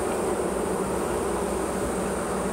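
Dense, continuous buzzing of many bees in a crowded hive, loud and close, a steady droning swarm with no pauses or voices.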